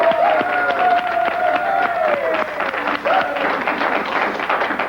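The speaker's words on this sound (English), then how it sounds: "Big round of applause." Studio audience applause on a late-night television variety show, dense clapping mixed with cheering and a voice shouting over it, loud and sustained throughout.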